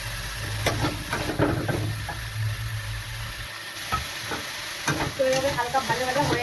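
Food fries over a medium gas flame while a spatula stirs and scrapes it around the pan, giving a continuous sizzle broken by several distinct scraping knocks; close and fairly loud, with no talking.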